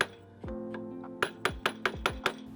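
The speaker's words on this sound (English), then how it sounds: "I used a screwdriver and a hammer to press in one side of the lock washer." Hammer tapping a screwdriver to bend a lock washer on an Alfa Romeo 105/115 lower wishbone: about six sharp metallic clinks, ringing briefly, close and fairly loud, the last five evenly spaced.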